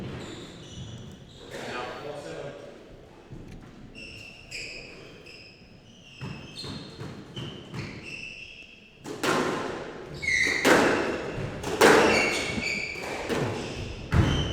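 Squash balls smack off rackets and the front wall in a fast rally during a Premier League squash match, sharp repeated hits echoing in the court, growing louder toward the end, with a commentator talking over them.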